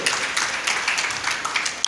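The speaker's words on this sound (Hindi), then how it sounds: "जी, तालियों से स्वागत करिए।" Applause from the audience at a Devi Bhagwat Katha religious discourse, welcoming guests with continuous, fairly loud clapping that holds steady throughout.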